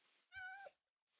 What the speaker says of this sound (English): Oh, just this cat.